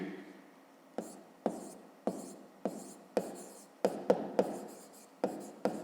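Handwritten math being worked out with pen on paper for a fifth-grade exercise: repeated short scratchy strokes and taps in an uneven rhythm, close and fairly quiet, with no voices.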